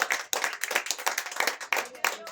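A church congregation claps for Christ during a worship service, a dense burst of close, steady hand clapping with a few short pauses, and voices mixed faintly beneath the applause.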